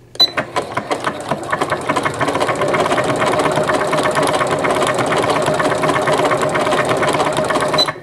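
Janome sewing machine fitted with a satin stitch foot, doing bobbin work: a few short starting stitches, then a steady, rapid mechanical clatter of continuous stitching, close and alone.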